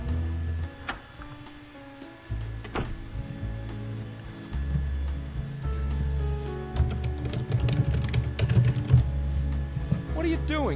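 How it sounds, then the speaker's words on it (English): Keys clatter on a computer keyboard inside a point-and-click game, scattered irregular taps and clicks over a droning musical background, growing busier toward the end. "Just typing stuff at random?"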